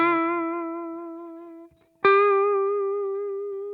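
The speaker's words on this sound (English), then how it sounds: "Vibrato is also characteristic of just holding a note and bending" An electric guitar note rings out with rich harmonics and a gentle vibrato wobble, breaks off briefly, then is struck again and held with a slow bend that sustains and fades.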